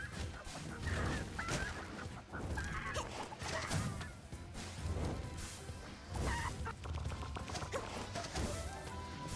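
A giant chicken boss in the cooking-adventure game Cuisineer squawks and clucks in repeated bursts amid crashing combat effects and game music.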